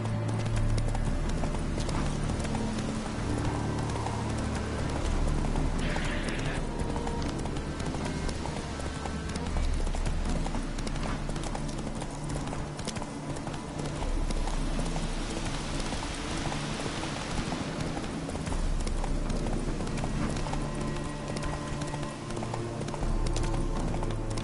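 Horse hooves clip-clopping steadily in the Witcher 3 video game, loud and rhythmic under a constant wash of rain, with a faint neigh or whinny mixed in.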